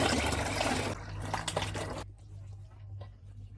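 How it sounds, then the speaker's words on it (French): Water poured into fermented beans in a fermentation tank while making homemade Bael fruit wine: a steady, close rushing pour for about two seconds, then it stops and only faint drips and trickles remain. "Versez maintenant l'eau dans les haricots fermentés et c'est prêt."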